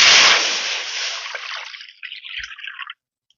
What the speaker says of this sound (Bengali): আচারি আলুর দমের আলুটা সিদ্ধ করার জন্য ওই একই কড়াতে দিয়ে দিচ্ছি আমি জল